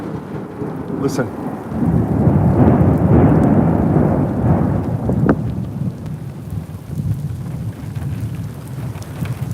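A heavy thunderstorm during tornado chasing in southwest Oklahoma, with loud, rolling thunder rumbling over steady rain, a sharp crack near the middle, and a brief spoken word at the start.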